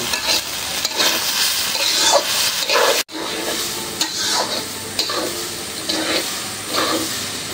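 Oil fries steadily for korma pulao, a dense continuous sizzle with repeated scraping stir strokes and one brief dropout midway, loud and close with no talking.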